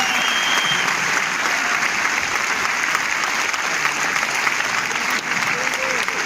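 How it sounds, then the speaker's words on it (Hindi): Sustained clapping from an audience, even and dense throughout, with faint voices mixed into the applause. "तालियां तालियां।"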